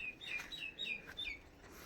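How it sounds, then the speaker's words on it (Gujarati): Small birds chirp and tweet at a village farm, a string of short, high calls repeating through the clip at moderate distance over a quiet outdoor background. "પંખી કલરવ કરે છે"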